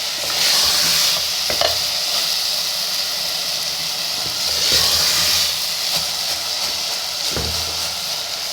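Masoor dal frying and being stirred in a clay handi, with a steady loud sizzle and hiss throughout and a few scraping stirs of the spoon against the pot.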